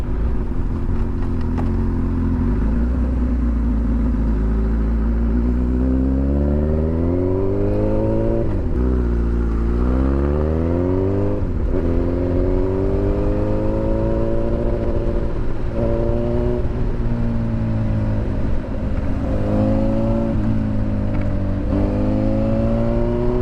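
A 1000cc liter-bike motorcycle engine revs loud and close with throttle blips, pitch rising and falling repeatedly over a steady running drone.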